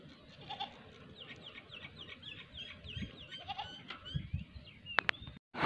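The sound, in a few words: goat bleating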